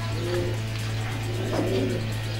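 Racing pigeons in a Belgian loft give soft, low cooing calls, a couple of brief warbles over a constant low hum.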